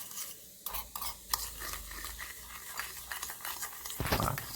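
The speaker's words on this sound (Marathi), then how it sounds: "आता आपल्याला आता ह्याच्यामध्ये आपल्याला पाणी टाकायचं आहे थोडंसं बघा. जास्त नाही टाकायचं, थोडं टाकायचं आणि त्याला पूर्ण मिक्स करून घ्यायचं." A homemade cockroach-repellent mixture stirred with a little water, heard as close, uneven scraping and clinking of a spoon in a container, with some bubbly fizzing toward the end.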